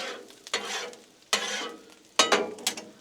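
Breakfast quesadilla filling being stirred and scraped across a hot Blackstone griddle, three bursts of sizzling and spatula scraping about a second apart, close and fairly loud, with no talk.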